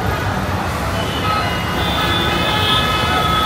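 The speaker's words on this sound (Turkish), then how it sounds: "Bir taraftan itfaiye sesleri, araç sesleri gelmeye başladı." Emergency siren from a fire engine cuts through dense, loud city traffic in Bangladesh, a steady wailing tone held over continuous road noise and engine rumble for the whole stretch.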